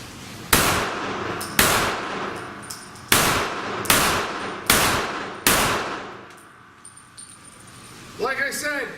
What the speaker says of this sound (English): I'm going to get off my first 6 rounds.